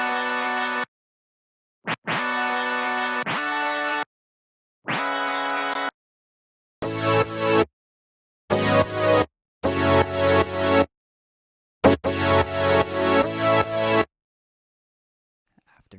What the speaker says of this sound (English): this kind of weird instrument, like this arpeggiated bell sound, which sounds like this